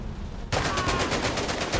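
Burst of automatic gunfire from the World War II shooter game Medal of Honor: Above and Beyond, set aboard a U-boat, loud rapid shots hammering out in an even rhythm after a short quiet lead-in.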